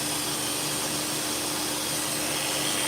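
An electric hair clipper fitted with a freshly sharpened blade runs loudly and continuously, a dense steady buzz with a faint hum beneath, close by and with no talk.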